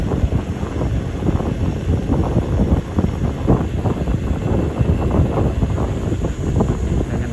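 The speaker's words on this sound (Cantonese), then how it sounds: "好似有啲風。" Wind rushes steadily past a moving car on a new, unfinished tourist road, a constant loud broadband roar with no pauses and no talk.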